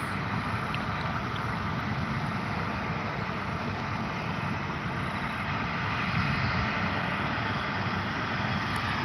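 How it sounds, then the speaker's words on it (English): A Boeing 737 flies high overhead on approach to Brisbane International, about 100 km out. It is a faint, steady, broadband jet roar that holds evenly throughout, with no voices. "737 over the top going into Brisbane International"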